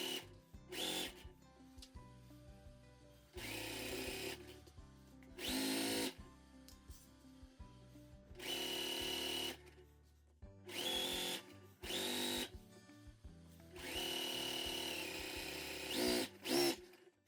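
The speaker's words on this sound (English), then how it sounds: "I'll go to the machine and stitch this down at a 1/2 inch seam allowance" A sewing machine stitches a half-inch seam on linen pants in several bursts of rapid whirring, each a few seconds long and separated by quiet pauses, close and fairly loud against near silence.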